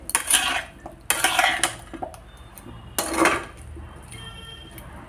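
Pumpkin and fish being stirred with spices and bay leaf in a pan, heard as bursts of metal spoon scraping and clanking against the pan in three distinct rounds, close and fairly loud, with quieter pauses between.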